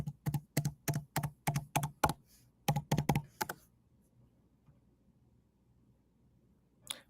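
Computer keyboard keys typed in a quick run of about fifteen sharp clicks while entering a password into a remote Ubuntu 22.04 server, then quiet, with one last click at the end.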